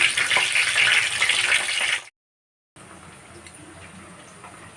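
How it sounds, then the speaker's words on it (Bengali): Chicken pieces deep-frying in hot oil for dry chili chicken, a steady close hiss and crackle that breaks off briefly and resumes more quietly. "এইদিকে তো আমার চিকেন ফ্রাই হচ্ছে"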